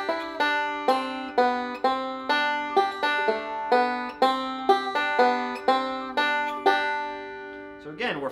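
Bluegrass banjo picks the beginner tune London Bridge with filled-up rolls, a steady stream of bright plucked notes in an even rhythm, played close and alone.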